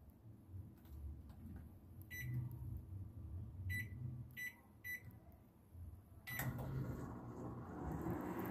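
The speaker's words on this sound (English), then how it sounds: "Microwave." A microwave oven beeps several times as buttons are pressed, then starts running with a soft, steady hum and whir, quiet and close, following a faint door clunk.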